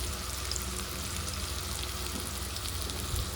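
Asafoetida and spices hit hot oil in a pan while sambar rice is cooked, giving a soft, steady crackling sizzle that stays even and fairly quiet throughout.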